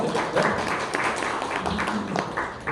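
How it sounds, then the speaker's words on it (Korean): Audience applause at a homebrew demo party in Pangyo after a startup team's presentation, a broad continuous clatter of many hands with faint voices mixed underneath. "네, 박수 부탁드립니다."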